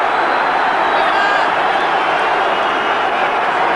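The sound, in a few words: football crowd at an AFL Foster's Cup match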